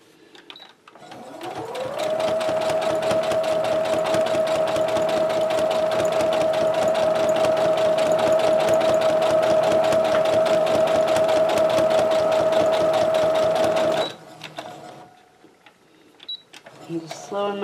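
Sewing machine stitching rag quilt seams, running at a steady whirring pace with a fast regular needle clatter for about twelve seconds, close and clear, then stopping, followed by a few soft handling sounds.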